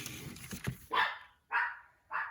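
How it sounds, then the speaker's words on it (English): A pet dog in a home barks three times in quick succession, sharp and fairly close, with no talk over it. "That's the dog."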